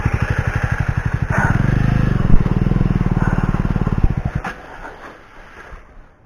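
A motorcycle engine thuds in a loud, steady rapid pulse close by during a clutch start on a camping trip to Coorg, holding for about four seconds before easing down and fading.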